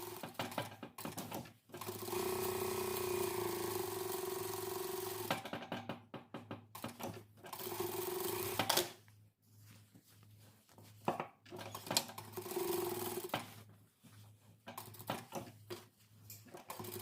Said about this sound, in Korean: 여기에서부터 끝으로 스티치 한번 이렇게 놓습니다